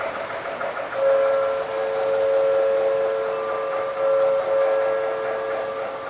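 A Rudolph-themed model train runs across a bridge on a holiday layout, a steady rolling rumble with a sustained whistle-like tone, moderately loud and near, with no talk.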